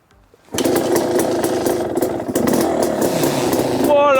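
A KTM 250 EXC two-stroke dirt bike starts abruptly after a brief quiet moment, then runs at a loud, rattly idle up close, with a voice exclaiming near the end.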